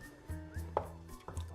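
Corn soup being stirred in a pot, a spoon scraping the bottom in slow repeated strokes with one bright clink against the metal side, close and quiet, with no voices.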